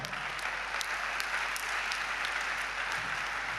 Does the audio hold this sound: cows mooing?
no